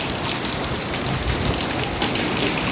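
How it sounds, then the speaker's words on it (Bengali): Steady rain falling beside a village house, a continuous dense hiss with no voices, unchanging throughout. "এই যে বৃষ্টি হচ্ছে ঘরের পাশে বসে আছি"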